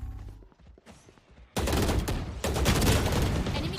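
Video game gunfire erupts abruptly after a quiet opening and becomes a loud, sustained barrage of rapid shots, intensifying partway through and continuing to the end.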